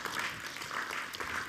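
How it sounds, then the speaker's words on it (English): A seminar audience applauds to welcome a speaker named Dr. Sizi, a steady wash of clapping from many hands heard from a moderate distance, brief and without talk. "Shall we welcome Dr. Sizi with a round of applause?"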